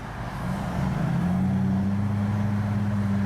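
A Jeep Wrangler TJ with a 4-speed automatic accelerates, its engine and road drone heard from inside the cab rising to a steady, loud hum.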